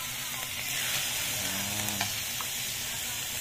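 Fresh liver frying in a pan, seasoned with pepper, gives a steady close sizzle with stirring scrapes and small pops throughout.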